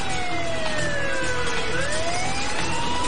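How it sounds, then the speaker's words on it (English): An ambulance speeds through a downtown business district in Huntington Beach, California, its siren wailing in long rising and falling sweeps that stay loud and close throughout, with no voices. "An ambulance roars through the downtown business district."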